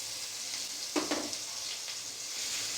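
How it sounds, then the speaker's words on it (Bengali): Ginger paste frying in hot oil in a wok among pointed gourd pieces, a steady soft sizzle with a couple of brief scraping stirs partway through, close and fairly quiet. "আদা বাটাটা কয়েক সেকেন্ড একটু নাড়াচাড়া করে কষিয়ে নেবো"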